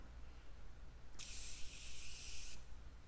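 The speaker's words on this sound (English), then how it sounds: "You're supposed to just hold it down once and spray." Makeup setting spray released in a single burst, a close, bright hiss lasting just over a second against quiet room tone.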